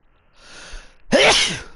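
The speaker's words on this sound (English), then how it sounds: "That was one hell of a sneeze." A single loud sneeze, a breathy inhale building up and then a sharp explosive burst, close to the microphone.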